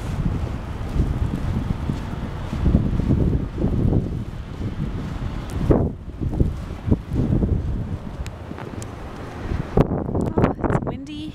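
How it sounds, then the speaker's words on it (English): During a Chicago blizzard, strong wind buffets the microphone in a continuous rough roar with uneven gusts, and a few sharper bursts stand out near the end. "Oh, it's windy"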